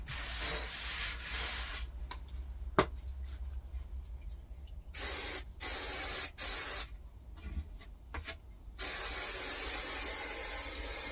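Several short bursts of aerosol spray hiss, each about a second long, close by, with a steady low hum underneath.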